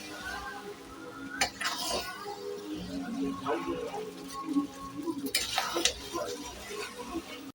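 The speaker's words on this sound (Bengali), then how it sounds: "এবার ভালো করে নেড়ে দেবো" Mixed vegetable, soybean and meat chop filling being stirred in a pan, with a spoon scraping and clinking against the metal in irregular bursts over a faint sizzle, close and moderately quiet.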